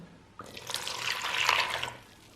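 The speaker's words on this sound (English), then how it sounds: "Add a cup of warm water." Warm water is poured into flour for pizza dough in one continuous stream of about a second and a half, close and fairly quiet, starting and stopping abruptly.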